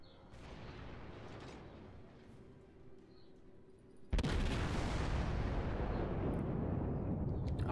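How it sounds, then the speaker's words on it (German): Naval gunfire in World of Warships: a sudden heavy boom about halfway through gives way to a sustained roaring rumble, after a quieter stretch of low ambient noise, with no talking. "Es schaut natürlich schon fantastisch aus, wenn da die Schüsse so rüber knallen."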